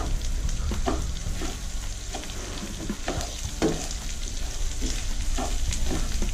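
Rice and bacon stir-fried in a pan give a steady close sizzle, with repeated scraping strokes of a spatula at an irregular rhythm over a low continuous rumble, no voices.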